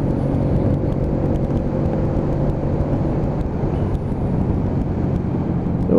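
A Keeway K-Lite 125cc motorcycle engine is heard steadily and up close, with a continuous motor drone that shifts gently as the engine rev matches during downshifts.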